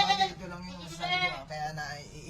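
A goat bleats in wavering, nasal cries close by, mixed with people talking over it.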